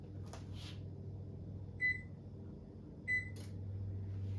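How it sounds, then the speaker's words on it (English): Two short electronic beeps from an oven's control panel as it is switched on, sounding about a second apart over a quiet kitchen hum with a couple of soft clicks before, no talking. "let me turn my oven on"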